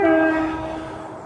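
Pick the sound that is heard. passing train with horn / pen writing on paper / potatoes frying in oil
passing train with horn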